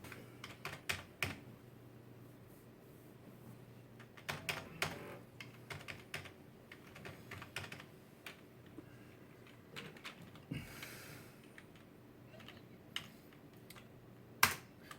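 Keys clacking on a compact computer keyboard during a PC build, bursts of quick, sharp taps separated by pauses, close and clear, with no voices over them.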